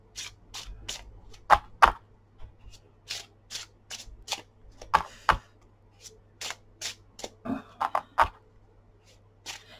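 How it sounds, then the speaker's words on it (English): Tarot cards are shuffled and riffled repeatedly, crisp snapping bursts with brief pauses, close by with no talking. "Because I'll pre-shuffle"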